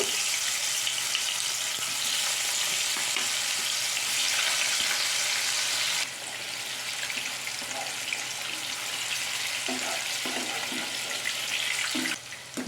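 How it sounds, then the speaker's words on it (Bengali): Tofu pieces fry in hot mustard oil, giving a loud, continuous, close hiss that eases slightly partway through, with a few light pops and no talking. "এবার আমি টোফুগুলো তেলের মধ্যে দিয়ে ভেজে নেব"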